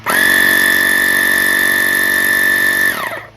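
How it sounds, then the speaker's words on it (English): A Spanarci Sandy 2000 cordless portable air compressor inflating a car tire, a loud steady whining motor drone with a strong tonal hum that runs unbroken before winding down and stopping near the end. "it starts the air compressor and inflates whatever you need"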